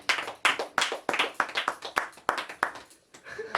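A group claps hands in a fast, steady rhythm during a ball-hunting challenge game, a dozen or so sharp, close claps that thin out and pause briefly before resuming.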